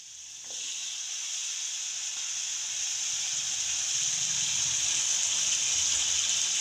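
Curry leaves and asafoetida sizzling in hot oil, a steady, fairly faint hiss of frying that builds slightly over the few seconds and carries on without a break.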